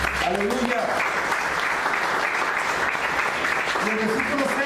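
A church congregation claps together in a sustained burst of applause, dense and even throughout, with voices calling out over the clapping.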